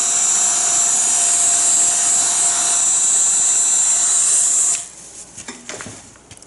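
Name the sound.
heat gun blowing on acrylic paint pour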